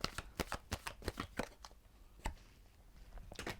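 Tarot cards being shuffled to draw outcome cards. A quick run of crisp riffling flicks gives way to a few scattered soft card snaps, close and quiet, with no talking.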